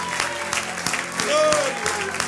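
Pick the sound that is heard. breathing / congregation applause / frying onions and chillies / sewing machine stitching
congregation applause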